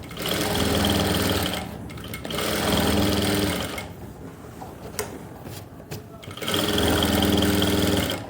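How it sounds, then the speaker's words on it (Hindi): Sewing machine stitching down the seam margin of a Farsi-style salwar, running in loud steady bursts of whirring stitches separated by short pauses. "इस मार्जिन को आप थोड़ा सा ऐसे सिलाई लगा लो ताकि मार्जिन अपनी जगह सेट हो जाए"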